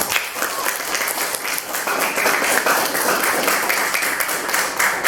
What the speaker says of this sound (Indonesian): Mari kita kasih aplaus untuk kelompok 1.